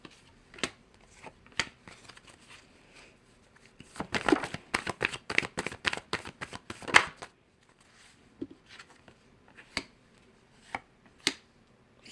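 Oracle cards riffled and shuffled by hand, with sparse single snaps and taps early on, a dense flurry of quick flicking shuffles in the middle, then a few isolated card pulls near and clear, no talk.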